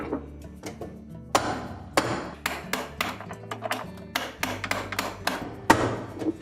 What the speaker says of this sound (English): And then with our spanner wrench, we'll tighten that up.